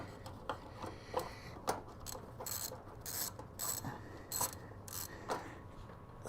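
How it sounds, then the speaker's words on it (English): A ratchet clicks in quick irregular bursts while someone works on a 1966 Honda CB160 in a motorcycle restoration shop. The close, sharp ticks are quiet, with short pauses between strokes. "there's that damn ratchet sound"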